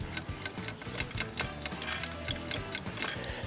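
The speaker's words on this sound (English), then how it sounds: "There's also like a spring-loaded ball in the back. You can hear it when I select it." A rapid series of small mechanical clicks and ticks, fairly quiet and irregular, as a spring-loaded ball clicks into the angle detents of a new mower blade's angle-grinder setup.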